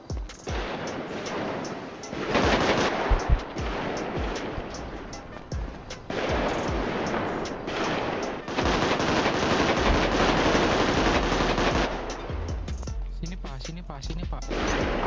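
Gunfire in the GTA V roleplay game, bursts of rapid shots and crashes cutting in and out over several seconds, loud and close, with players talking over it.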